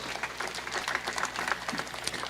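A crowd applauds at the Catholic University of Eastern Africa's 44th graduation ceremony. The clapping is moderate and steady, with many hands close together, and runs without pause for a couple of seconds.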